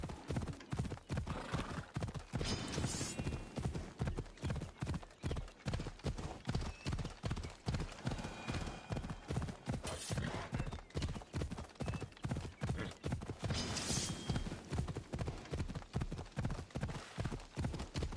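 Horse hooves clip-clop in a steady, even rhythm throughout, close and continuous, like a horse walking at a constant pace, in the video game Assassin's Creed Odyssey.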